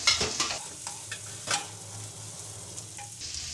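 Capsicum, green chilies and tomato frying together for pulao in a pan, close sizzling broken by sharp stirring scrapes and clinks early and again near the end, with no voices.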